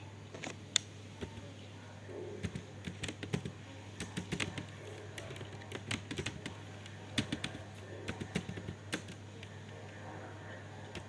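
Computer keyboard typing in bursts of quick, light clicks, close and fairly quiet over a low steady hum, with short pauses between runs of keystrokes.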